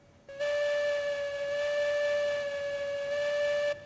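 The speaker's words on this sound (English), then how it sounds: "You have a train whistle." A steam locomotive whistle in the train-driving game Railroads Online sounds as one sustained, steady tone of about three and a half seconds, clear and alone, starting and stopping abruptly.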